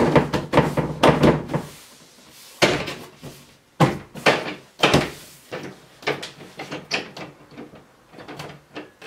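Zombies pound on a door in the video game Dead Rising, a run of heavy, irregular thuds and slams, some coming in quick clusters, loud and close with short pauses between them.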